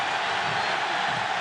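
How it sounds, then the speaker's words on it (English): Football stadium crowd at a 2003 college game, Kansas State at Oklahoma State, a steady broad roar of cheering voices filling the whole moment without clear peaks. "Crowd gets into it here."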